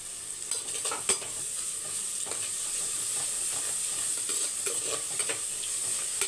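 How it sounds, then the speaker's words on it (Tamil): Onions sautéing in a pan for duck curry give a steady, close sizzle with bright hissing crackle and occasional stirring scrapes throughout, with no talking. "இப்போ வெங்காயம் வதங்கட்டும்."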